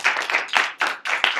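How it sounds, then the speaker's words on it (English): An audience claps in a continuous burst of applause, steady and fairly close, with no voices over it. "let's give Justin all of our attention and applause"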